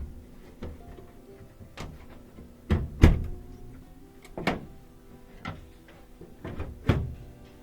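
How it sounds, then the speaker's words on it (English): A few scattered metallic clunks and knocks as the door panel of a Trane XL 80 furnace is handled and set back into place, with quieter shuffling between the sharper hits. "We're going to go ahead and put this door back on so that it activates the door switch"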